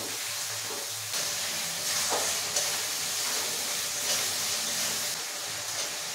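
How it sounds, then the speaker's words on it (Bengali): A spice paste with turmeric and Kashmiri chili powder and a splash of water is fried and stirred in a pan, giving a steady close sizzle and hiss with occasional scraping stirs over about six seconds. "এখন মশলাটা খুব ভালো করে কষিয়ে নেব"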